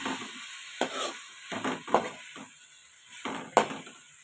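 Broad beans with chili powder stirred in a pan: a soft sizzle under a series of scraping, clinking spoon strokes against the metal, uneven in rhythm, close by and with no one talking.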